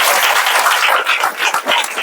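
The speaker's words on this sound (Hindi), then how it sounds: "एक बार जोरदार ताली परम पिता।" A church congregation at a Sunday meeting claps together in a dense, steady burst of applause that fills the whole two seconds, with no voices over it.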